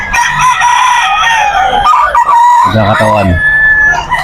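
A nine-month-old straight-combed Dominique stag crows loudly and close by at a busy pet market, a strained cock-a-doodle-doo with clucking around it and a brief voice in the background.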